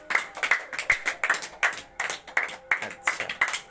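A classroom of students in an art class claps in a quick, uneven rhythm, many hands close by, with brief voices mixed in.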